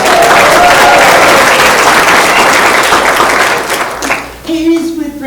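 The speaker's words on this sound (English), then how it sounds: "Can we all give him a round of applause?" A Lions MD23 state convention audience applauds a member's belated birthday, loud dense clapping that thins out toward the end as a voice begins talking over it.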